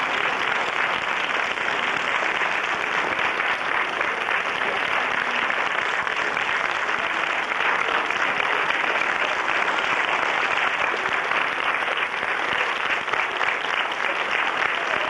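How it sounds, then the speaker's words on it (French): Sustained, dense applause from a theatre audience at the end of a Revolution-themed show, a steady even roar of many hands clapping throughout with no voices standing out. "Applaudissez-moi."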